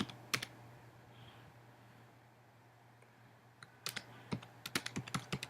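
Computer keyboard typing at a desk, a few isolated keystrokes early, then a quicker run of crisp clicks near the end over a steady low hum.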